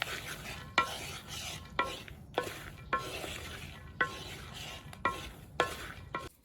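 Groundnuts frying in a large pan are turned over and over, each stroke landing as a sharp scrape and clatter at a steady rhythm of roughly one per second above a low sizzling bed, with no voices.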